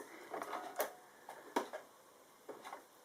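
A sewing machine stitching quilt binding, a few short bursts of quiet mechanical ticking with pauses between, faint and close.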